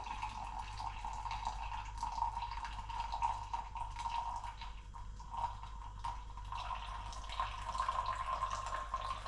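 Hot water trickles and pours gently over ground coffee for a pour-over brew, a soft continuous splashing close by with no talking.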